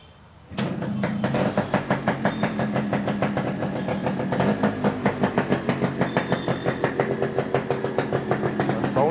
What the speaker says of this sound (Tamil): ப்ரோ பைக் ஸ்டார்ட் பண்ணி காமிச்சோம்.